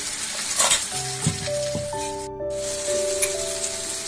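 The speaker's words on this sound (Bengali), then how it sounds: "এবার আমি বাটা মশলাটা দিয়ে দিচ্ছি, যে পেঁয়াজ টমেটো রসুন আমি একসাথে বেটে রেখেছিলাম সেটা আমি দিয়ে দিচ্ছি" Ground onion, tomato and garlic paste sizzles steadily in a hot pan for a Bengali katla fish curry, with faint clinks and scraping under a bed of background music.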